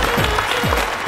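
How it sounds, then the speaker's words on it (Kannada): Loud applause from a studio audience on a television show, a dense, continuous burst of many hands clapping at once, close and steady with faint voices mixed underneath. "ಜೋರ್ ಚಪ್ಪಾಳೆ."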